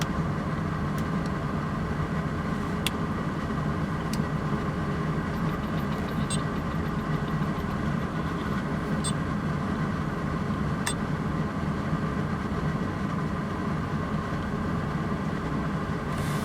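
A 2009 Chevrolet Silverado 2500HD pickup engine idling on a warm day, a steady, even rumble heard close and unbroken throughout, with a few faint clicks on top.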